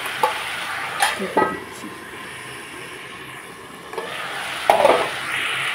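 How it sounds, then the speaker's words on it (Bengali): Vegetables with tomatoes, turmeric powder and salt get stirred in a frying pan: a few sharp spatula scrapes and clatters over a soft, steady sizzle, with a brief spoken phrase. "এখন আমি টমেটো দিয়ে সবজিগুলোকে একটু নাড়া"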